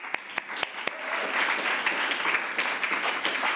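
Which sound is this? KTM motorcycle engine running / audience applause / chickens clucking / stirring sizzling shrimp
audience applause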